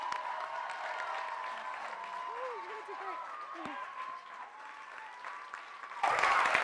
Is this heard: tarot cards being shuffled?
no